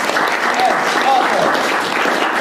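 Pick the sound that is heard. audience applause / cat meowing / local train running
audience applause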